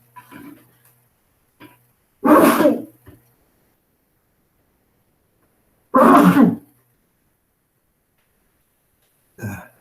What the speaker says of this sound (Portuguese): eu tenho um pouco de rinite, e algumas vezes eu começo a espirrar